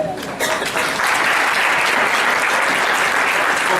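Applause honoring Black Greek fraternities and sororities at an education and criminal justice event, rising within the first second into dense, steady clapping from a large crowd that holds loud and unbroken to the end.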